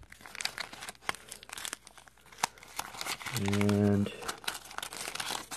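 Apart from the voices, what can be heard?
tape being peeled off a board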